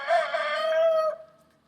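A curly-feathered rooster lets out one close, loud crow, a single sustained call that tapers off quickly into silence.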